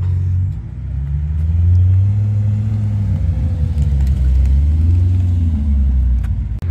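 A Gran Turismo sports car at a car meet idles with a deep, steady, loud engine rumble that swells and eases slightly, nearby and with no voices over it.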